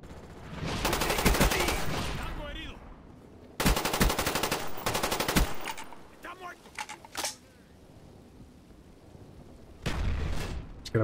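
Rapid automatic gunfire in the video game Black Ops comes in loud sustained bursts separated by pauses, mixed with game effects and someone talking over the action.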